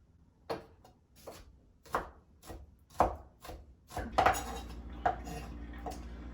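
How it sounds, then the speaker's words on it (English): A knife mincing garlic on a cutting board: a steady run of crisp, close chopping taps, speeding into a rapid flurry toward the end, with no talking. "going to mince it into extremely small pieces"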